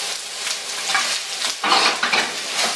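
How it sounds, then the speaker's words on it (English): Cubed thawed Boca Burgers hiss and sizzle in a non-stick skillet, with steady frying crackle rising in a louder burst midway as the pieces are stirred, close and clear with no talking. "Cubed them, and now I just added them into the non-stick skillet."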